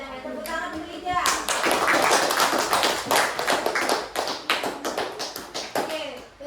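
A school literacy class claps for a student, with a burst of many close, sharp handclaps that swells quickly and then fades into scattered claps. Children's voices are heard briefly before and after.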